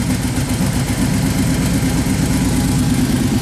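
A small engine on a garage or farm machine idles steadily after being started with choke, a loud, continuous low rumble with no talk over it.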